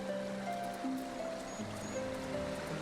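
A river flowing in Final Fantasy XIV: Heavensward gives a steady, continuous wash of rushing water, with soft sustained game-music tones running underneath and no talking.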